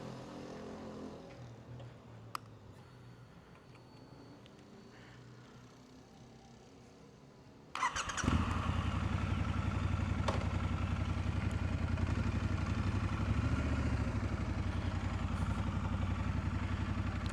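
A quiet, low background at night on a wet street gives way to a motorcycle engine that suddenly roars to life and keeps running steadily and loudly nearby.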